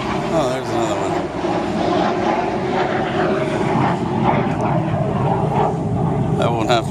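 Airshow airplane passing overhead, a steady engine roar that carries through the whole clip while someone talks over it.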